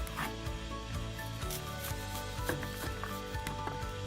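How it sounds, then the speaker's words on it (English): A knife slicing and dicing an onion on a cutting board, with quick repeated chops and scraping strokes under a faint tonal background. "slice it vertically. And then when you go to slice it horizontally, you have a perfectly diced onion"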